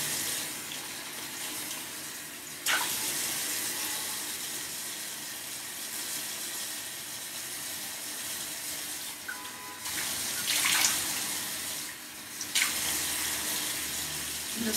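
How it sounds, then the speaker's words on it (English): Tap water runs steadily from a sink faucet as someone wets their face for a skincare routine, a close, even rush broken by brief louder splashes near the start and again toward the end. "First thing I'm going to do, wet my face with water."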